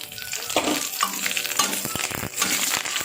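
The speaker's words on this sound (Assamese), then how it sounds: "তেলখিনি প্ৰায় গৰম হৈছে। এইখিনি ইয়াত আদা ৰহুন দিলোঁ মই পেষ্ট" Ginger garlic paste, green chillies and curry leaves sizzle and crackle steadily in hot oil in a pan, a close, continuous frying hiss with small pops and occasional stirring.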